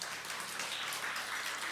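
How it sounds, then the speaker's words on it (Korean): Church congregation applauding during a Sunday worship service, a dense, even wash of many hands clapping at moderate distance, brief and steady. "하나님께 영광의 박수 올려드리겠습니다"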